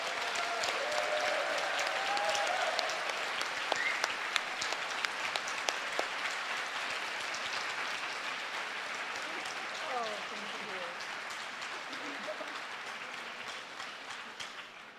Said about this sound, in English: Please welcome Liz Page with a huge round of applause.